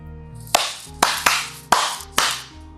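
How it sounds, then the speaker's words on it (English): A single person claps five times, copying a short rhythm with a quick pair in the middle, crisp and close over a low steady hum, no voices. "Now you can do a clap."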